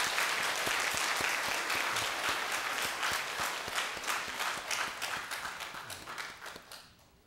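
A church congregation claps loudly and steadily at an Easter service, dense applause sustained throughout before thinning and fading out at the end.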